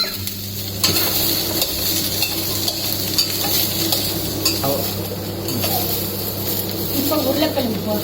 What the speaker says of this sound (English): அப்புறம் கேரட் போடுறேன்.